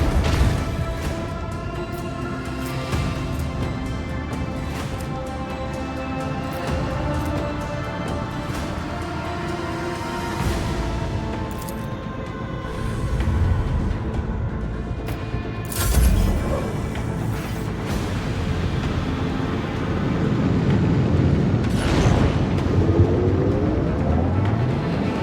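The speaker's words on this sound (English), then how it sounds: "Let the macro cannons sing their deadly litany." Macro cannons fire in the Warhammer 40k: Rogue Trader game, a dense, rumbling space battle barrage of booms and mechanical roar that swells toward the end, with no talk.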